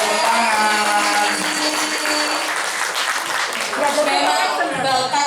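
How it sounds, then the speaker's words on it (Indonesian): Audience applause rolls on steadily for several seconds after a school poetry-music performance by students, with voices faintly mixed in beneath the clapping. "Terima kasih, tepuk tangan."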